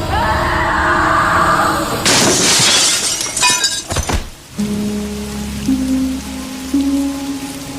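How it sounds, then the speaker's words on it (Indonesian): A glass window shatters as a body crashes through it after climbing from a ceiling, a loud burst of breaking glass followed by scattering debris and tinkling shards, then a low steady hum with faint tones. "menerobos kaca dengan tubuhnya"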